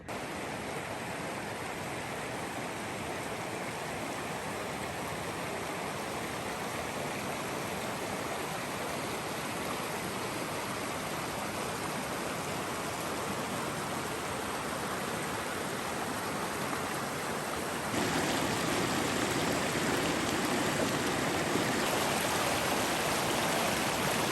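Steady broadband rush of a mountain stream flowing at a campground in Telluride, Colorado, continuous and close with no pauses, filling the whole stretch alone and swelling slightly louder near the end.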